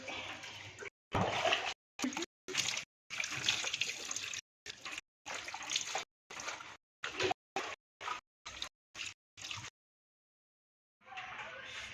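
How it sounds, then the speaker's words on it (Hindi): Hot water splashing and pouring while a dog is bathed on a cold day: repeated bursts of close, loud splashing broken by short silences, then a pause before splashing resumes. "ਅੱਜ ਸਾਡੀ ਬੁਗੜੀ ਦਾ ਨਹਾਉਣ ਦਾ ਦਿਨ ਆ ਤੇ ਪਾਣੀ ਹੈਗਾ ਗਰਮ ਗਰਮ"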